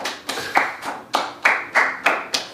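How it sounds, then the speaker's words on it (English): A few people clapping for a guest in a brief round of applause after a chat, about seven sharp, spaced claps in a loose rhythm, close and fairly loud with no talk. "Can I give you a round of applause?"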